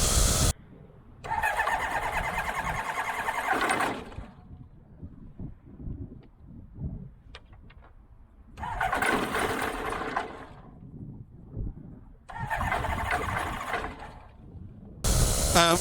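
A small aircraft engine struggles to start, catching and kicking hard: three loud bursts of sputtering, uneven running, each cutting out into quiet gaps with faint clicks.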